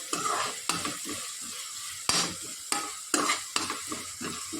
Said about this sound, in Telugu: దీన్ని హీట్ చేస్తూ ఉండాలి, కలుపుతూ ఉండాలి.